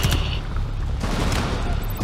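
Enemy gunfire in the video game Rainbow Six Extraction on PS5 makes a loud, continuous crackling barrage over a short span.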